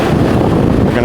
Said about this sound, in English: Really nice waterfalls.